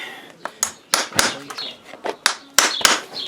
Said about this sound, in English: This here is what's called blocking the nails, which basically just sets them into the shoe